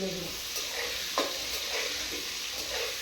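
Potatoes fry in a pan with salt and turmeric, giving a soft, steady sizzle with occasional scraping stir strokes and a single sharp knock partway through. No one speaks over it.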